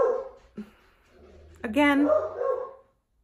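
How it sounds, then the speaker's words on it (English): Dogs barking indoors: a short yip, then a loud, close run of barks and whining yelps that fades after a couple of seconds, with a person speaking briefly just before. "the dogs have a lot to say"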